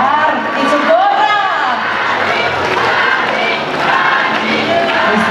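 A crowd at the Flor Más Bella 2023 beauty pageant in Zacapoaxtla claps and cheers for the second-place finisher, a dense, continuous roar of applause, whoops and shouting voices filling the space.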